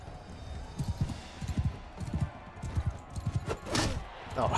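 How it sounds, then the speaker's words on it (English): Rapid hoofbeats of a galloping horse thud along steadily in Mount & Blade II: Bannerlord, with a brief whoosh near the end. "get on that horse and see if we can actually chase him down."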